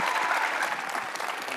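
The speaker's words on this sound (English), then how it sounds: "So let's give them another round of applause." An audience at a tech presentation event claps in a steady, dense burst of applause, moderately loud and even from start to finish with no voices over it.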